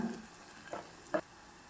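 Browned onions with turmeric sauté in a pan for a fried potato curry, giving a faint, steady sizzle broken by a few soft stirring scrapes.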